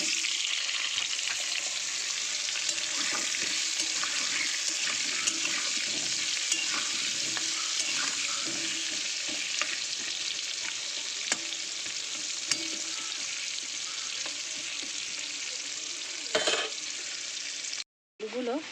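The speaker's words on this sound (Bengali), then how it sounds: "তার আগে আলুগুলো কিন্তু আমি লাল লাল করে ভেজে নেব।" Potatoes fry in oil in a kadai (wok), browning before an egg curry: a continuous close sizzle with occasional stirring clatter, steady throughout and cut by a brief gap near the end.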